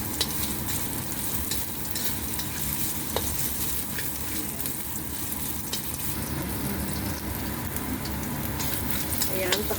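Ginger and garlic sautéing in a pan for chicken tinola, a steady close sizzle and frying crackle with the scrape of stirring running throughout.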